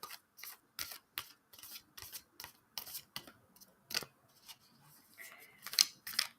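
Tarot cards being shuffled by hand give a quick run of crisp riffling snaps and taps at close range, fairly quiet, with short pauses between bursts and a light clatter near the end.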